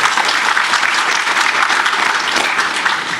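Loud, steady clapping from an audience at a law enforcement leadership community program at Darul Uloom New York, a short sustained round of applause filling the room.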